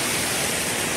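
A small waterfall stream at the Sone Eco Point in Sonbhadra, Uttar Pradesh, gives off a steady, loud broadband rush of flowing water with no break.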